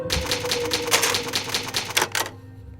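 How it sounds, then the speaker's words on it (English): A rapid run of old typewriter key strikes from Resident Evil HD Remaster, crisp and evenly spaced clacks while the game is saved, ending abruptly with a final carriage-like clunk. "It's an old typewriter. You can save your progress."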